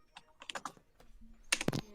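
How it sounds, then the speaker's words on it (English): Quick bursts of typing on a computer keyboard, close and clear, with a short run of keystrokes, a brief pause, then a denser flurry of clacks. "I'm just typing it in now."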